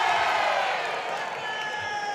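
Spectators at a men's under-75 kg karate championship final cheer and shout for a point, a loud crowd roar that swells briefly then eases slightly, with announcer talk mixed in.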